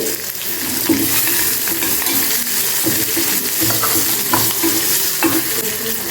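Asafoetida dropped into a sizzling tempering for poha curd rice, a loud dense crackle and hiss with rhythmic stirring scrapes throughout, close up and without voices.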